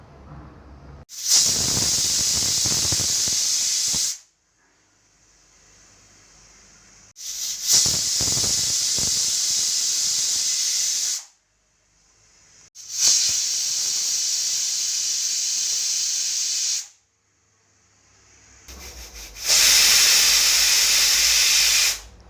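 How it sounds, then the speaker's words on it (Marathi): A pressure cooker cooking black mutton lets out four long, loud bursts of hissing steam, each lasting a few seconds, separated by short quiet gaps. "आता आपल्या कुकरच्या चार पाच शिट्या झालेल्या आहेत"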